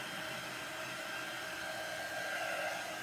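A hair dryer blowing on a chalk-painted flower pot craft project, a steady, loud, close whir with a high whine, unbroken for the full three seconds and without talk.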